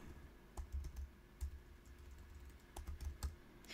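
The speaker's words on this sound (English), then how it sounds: "We can type in Gmail." Fingers tap quietly on a computer keyboard, producing faint clusters of soft clicking keystrokes separated by brief pauses.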